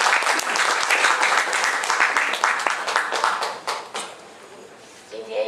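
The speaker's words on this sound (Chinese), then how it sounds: "那我们掌声鼓励来赖医师" Audience applause at a medical lecture event, dense clapping from a crowd that rises quickly then tapers off after a few seconds into scattered claps, with a voice speaking at the end.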